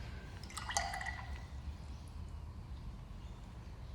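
Watercolour paint mixed with water in a palette, a few faint, soft wet clicks and drips clustered early on, then a quiet background hiss.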